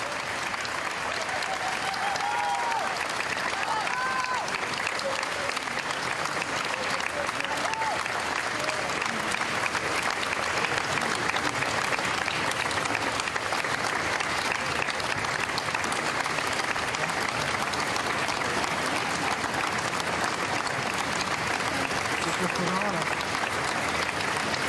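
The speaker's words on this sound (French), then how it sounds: "les applaudissements des invités et de la foule, des fans de Thierry Ardisson qui se sont réunis devant l'église" Steady applause from guests and a crowd of fans gathered outside the Saint-Roch church in Paris at a funeral as the coffin leaves, continuous and dense throughout, with faint voices mixed in.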